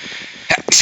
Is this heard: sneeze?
yes